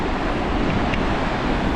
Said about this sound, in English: So there's 3 viewing points for this waterfall.